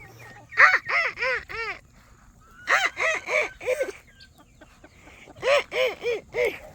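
Guinea fowl on a Southern homestead give loud, harsh calls close by, in rapid bursts of about four notes with short pauses between, and no one talks.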